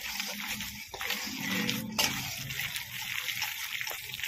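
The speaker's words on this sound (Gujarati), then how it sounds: "હવે આપણે એમાં પાણી એડ કરશું જરૂરિયાત પ્રમાણે." Water is poured into fenugreek (methi) fritter batter, giving a soft, steady sloshing and splashing that swells briefly near the middle, fairly close and not loud, with no talk.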